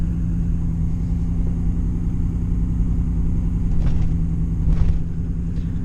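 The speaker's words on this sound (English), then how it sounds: "I'm just gonna hit some regular speed bumps, kind of slower speed" A lifted truck rolls slowly over ordinary speed bumps, its engine a steady low rumble with a couple of soft thumps and rattles as the wheels cross.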